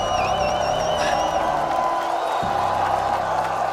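A large esports tournament crowd in Paris roars with sustained cheering, whoops and applause, loud and dense throughout, with whistles rising above the din and a voice faintly audible underneath.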